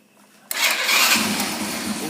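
A motorcycle with a new battery cranks on its electric starter after a quiet pause. The engine catches abruptly and settles into a steady, close mid-pitched running sound.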